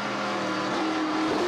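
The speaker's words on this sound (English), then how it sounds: "you can hear the engine quit right away" A stock race car engine at a Pinty's series race at the Clarington racetrack, a loud steady droning roar with a sustained tone rising slightly near the end, heard alone without talk.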